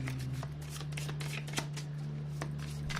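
Chakra Wisdom oracle card deck being shuffled by hand, a close run of rapid riffling card flutters and taps over a steady low electrical hum, with no speech.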